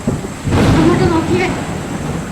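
A low roll of thunder swells and fades behind steady rain noise, with a voice speaking briefly over the rumble.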